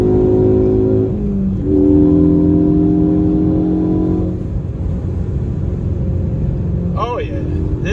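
A Ford Focus ST fitted with a Borla S-Type exhaust drones steadily at a low, even pitch for several seconds, then the tone drops and settles; a voice cuts in briefly near the end.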